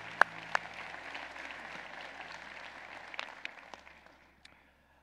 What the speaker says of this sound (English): Can you give them another round of applause?